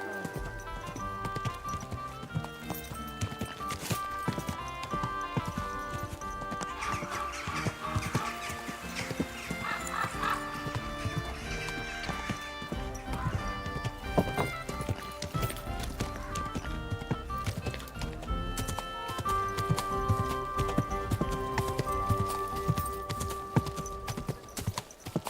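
Horse hooves clip-clop steadily through a Kingdom Come: Deliverance II game scene, with occasional neighing over a dense, continuous bed of background music and ambience.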